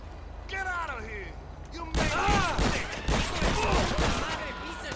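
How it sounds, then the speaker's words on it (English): Heavy shotgun gunfire in GTA Online: a run of loud, booming shots fired in quick succession, heard together with other game sounds and voice-like tones. "I got my heavy shotgun."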